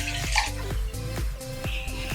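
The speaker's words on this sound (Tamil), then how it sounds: "இதை நம்ம குக்கருக்குள்ளேயே தண்ணியை விட்டு வச்சுக்கலாம்." Water is poured from a tap into a pressure cooker holding green moong dal gravy, making a steady splashing pour with a few sharper drips, close and moderately loud.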